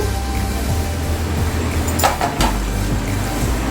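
Potatoes dropped into chicken masala in a pan, with a brief cluster of clattering knocks and scrapes near the middle, set against a steady, loud background hum of kitchen noise.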